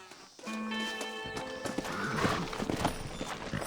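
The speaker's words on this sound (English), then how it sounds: "Horses are over here!" Horses in the Red Dead Redemption video game whinny loudly, then hooves clop in a steady rhythm, close and clear against game ambience.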